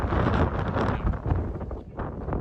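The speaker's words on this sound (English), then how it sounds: "Windy. Yeah, windy." Strong wind buffeting a microphone outdoors at a roadside stop on a motorcycle trip, loud continuous rumbling gusts with no speech.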